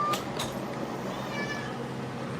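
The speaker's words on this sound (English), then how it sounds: "What up, kitty cat?" A house cat gives two quick meows near the start, heard indoors against a steady hum of air conditioning in a hot room.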